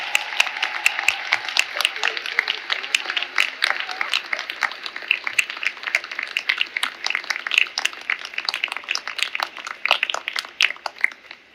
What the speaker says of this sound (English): get on your feet and give them a round of applause for what they have done